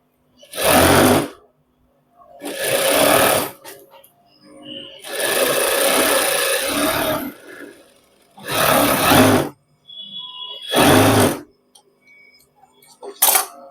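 A sewing machine stitches a shirt in short close bursts, loud whirring runs of one to two seconds separated by pauses, with one longer stretch in the middle and faint clicks between runs.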